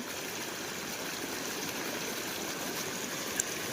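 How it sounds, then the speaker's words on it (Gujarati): Floodwater from days of heavy monsoon rain in Kutch rushes steadily past as one continuous broadband roar, with no breaks and no voices. "આજ 5 દિવસ થયા છે, સતત પાણી નીકળે છે"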